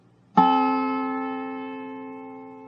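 A single dobro chord played with a slanted bar rings out with a sharp metallic pluck, then sustains and slowly decays, clear and close with no talking.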